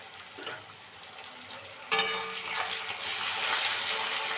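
Garlic and tomato frying in a pan for chilli chicken, a soft sizzle that jumps sharply louder when the tomato drops in and then holds as a steady, crackling hiss.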